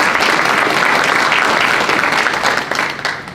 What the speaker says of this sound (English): Please join me in giving them a hand clap